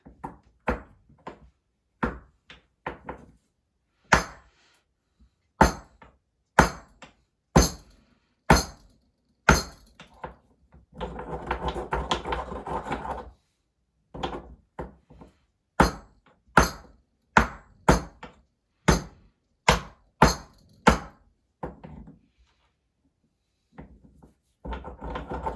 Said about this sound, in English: I ground the tooth down with the mortar and pestle